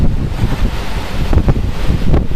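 Strong wind gusts from storm Caetano in Clermont-Ferrand roar and buffet the microphone, surging in rough waves of loud, low rumbling with several sharper blasts and no talking.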